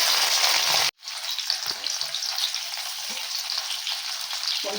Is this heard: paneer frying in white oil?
yes